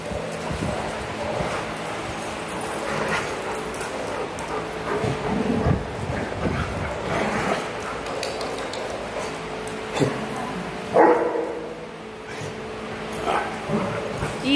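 Dogs named Ocean, Zeke and Blue playing together, with scattered barks, yips and whimpers amid scuffling movement, at moderate distance, with occasional human talk.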